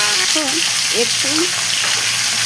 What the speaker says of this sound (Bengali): নুন আর অল্প হলুদ দিয়ে দেবো, দিয়ে আলুটাকে আধা করে ভেজে নেব